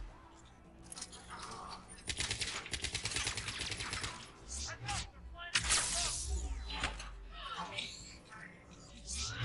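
Gunfire in the video game Mass Effect Legendary Edition, with scattered shots and bursts at moderate loudness among busy game effects.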